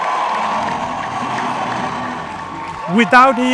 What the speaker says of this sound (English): give him a huge, huge round of applause